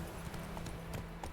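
Steady clip-clop of Roach's hooves, Geralt's horse in The Witcher 3, a quick trotting rhythm over a dense game soundscape, with no voice.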